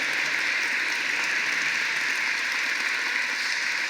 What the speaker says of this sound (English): let's give Fatima Harris another big round of applause for her amazing leadership in making this event possible